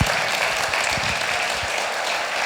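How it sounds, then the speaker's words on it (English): A lecture audience applauding a speaker, dense sustained clapping from many hands filling the room evenly and loudly throughout. "I would like to give another round of applause to Dr. Michael Lynch"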